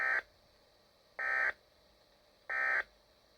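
A weather radio alert test gives three loud, identical electronic tone bursts, each about a third of a second long, spaced roughly 1.2 seconds apart with quiet hiss between them.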